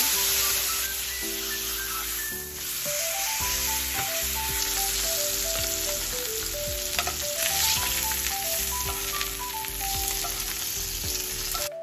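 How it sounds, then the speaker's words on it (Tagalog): Steak fries in butter in a hot pan, giving a strong, steady close sizzle with crackling spits throughout, heard under a bed of background music and no speech. "ibabalik po natin ulit yan sa kawalit tapos lalagyan po natin ng butter"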